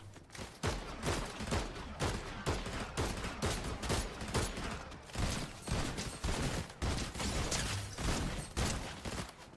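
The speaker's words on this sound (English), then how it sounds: "Who's shooting at me now? Who else is shooting at me?" Rapid bursts of automatic video-game gunfire crackle in a dense, continuous rhythm, moderately loud with no voices over it.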